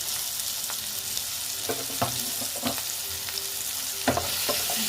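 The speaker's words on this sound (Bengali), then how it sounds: "দিয়ে আলুগুলো ভেজে নিচ্ছি" Potatoes with a little turmeric fry in a pan under a steady close sizzle, broken by scattered taps and scrapes of stirring.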